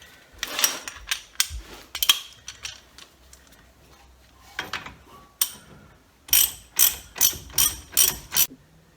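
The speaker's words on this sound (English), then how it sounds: "I've got the spring adjusters on. Going to start tightening them up a little bit." A ratcheting spring compressor tightens on the rear coil spring of an 86 Nissan 300ZX Turbo Z31: scattered clicking ratchet strokes at first, then after a pause a steady run of six or seven loud, evenly spaced ratchet bursts.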